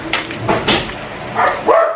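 Several dogs bark close by in a home, with repeated sharp barks and yaps that come in clusters, ending in a higher-pitched yelp.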